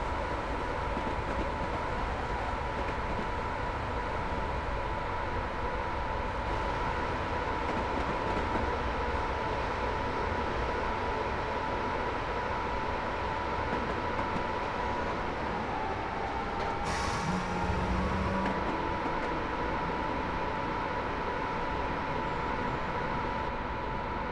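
Train running on the West Coast Main Line over Shap in Train Simulator Classic, a steady rumbling roll with a faint sustained whine throughout, plus a brief high squeal and a short tone partway through, no talk.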